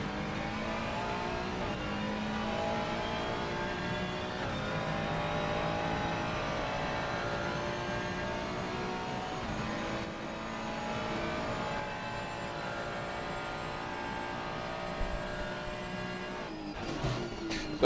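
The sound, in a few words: GT3 race car engine during qualifying at COTA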